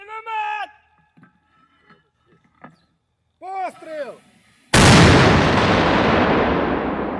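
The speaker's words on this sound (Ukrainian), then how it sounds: "Мінометний розрахунок отримує наказ відпрацювати по ворогу." A mortar fires at the enemy with one sudden, loud blast whose roar fades slowly over several seconds, after short shouted voices.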